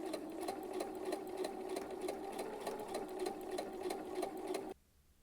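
Sewing machine stitching fabric for baby booties, with a regular-length stitch and a few back stitches: a steady, rapid rhythmic chatter, close and moderately loud, stopping abruptly near the end.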